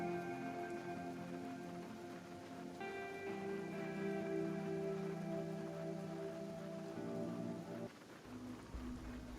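Rainfall in the video game Kenshi gives a steady, soft hiss of countless drops beneath sustained tonal background music that shifts chords and drops out near the end.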